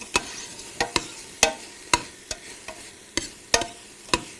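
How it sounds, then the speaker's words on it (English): A spoon stirs ingredients for corn jalapeño chowder in a pot, giving about ten sharp, irregular scrapes and clinks against the pot over a soft background, with no talk. "All right, give these guys a stir."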